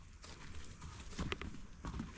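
A horse's hooves clip-clop on the ground, a few uneven knocking steps heard close by over a low, muffled outdoor background.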